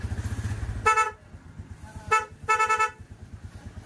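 A Honda car horn beeps three times over a low idling engine rumble: a short honk, then a brief tap, then another short honk, fairly close.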